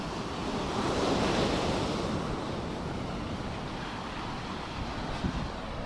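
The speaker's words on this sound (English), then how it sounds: "Oh, these waves really are bigger than the other ones." Ocean waves break and wash continuously onto the beach at Cala de Mijas on the Costa del Sol, a steady broad roar of surf with light wind noise, fairly close and without voices.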